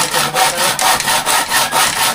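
A hand saw with large teeth cuts through wood in steady back-and-forth strokes, about nine rasping passes in two seconds. The strokes are loud and close, with no voices.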